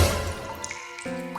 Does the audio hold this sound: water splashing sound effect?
yes